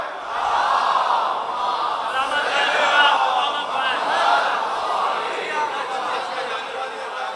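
A large congregation at a Muharram majlis in Karachi recites salawat together, a loud, dense, sustained roar of many voices blending into one continuous swell.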